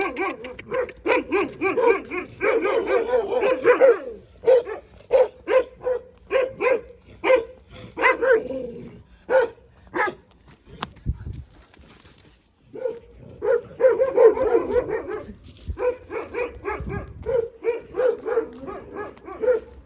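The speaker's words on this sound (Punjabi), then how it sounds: "ਜਿੰਨਾ ਕੁੱਤਾ ਭੌਂਕਿਆ ਹੈ ਨਾ ਕੋਈ ਨਾ ਕੋਈ ਬੰਦਾ ਆ ਜਾਣਾ ਸੀ" Dogs bark close by in rapid, repeated bursts mixed with yips and whimpers, falling quiet briefly in the middle before the barking starts up again.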